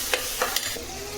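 Chopped cluster beans being sautéed in a little oil with chilli powder, turmeric and garam masala for a dried-fish thokku, giving a soft steady sizzle broken by three or four short scraping stirs of the spoon.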